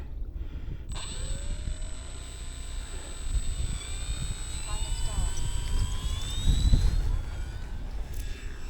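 An E-flite 1.2m Spitfire RC plane throttles up and rolls off a rough, overgrown grass runway, a thin high motor whine rising over rumbling wheel and wind noise, with faint outdoor background throughout.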